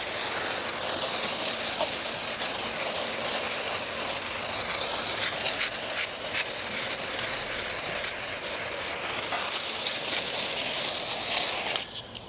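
Water sprays steadily onto Japanese holly leaves infested with spider mites and whiteflies, a continuous broad close hiss with slight flutters, no voices.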